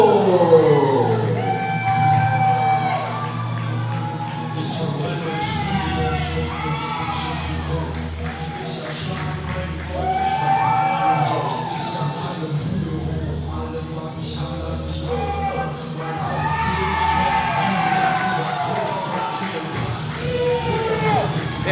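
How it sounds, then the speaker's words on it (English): A wrestling crowd cheering and applauding as Hans Schultz, reigning wXw Cruiserweight Champion from Germany, makes his entrance, with whoops and shouts rising in waves over loud entrance music. "there's Hans finally getting the applause and calling to the ring that he'd like to hear"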